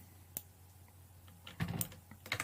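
Code being typed on a computer keyboard: a single sharp key click early on, then bursts of quick, close keystrokes toward the end, with no talking.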